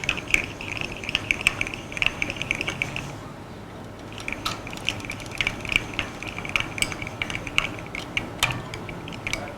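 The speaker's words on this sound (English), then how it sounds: "I'll speed up the process a little bit with a winder" A string winder winds a bass guitar string at the tuning peg, giving quick rattling ratchet-like clicks with a faint ringing whine. The clicking comes close in uneven bursts and pauses briefly partway through.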